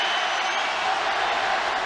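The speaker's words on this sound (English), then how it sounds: "Crowd trying to raise the Mexican." A boxing arena crowd roars steadily for Alvarez during the tenth round of his fight with Golovkin, a dense, continuous wash of cheering with no breaks across the whole moment.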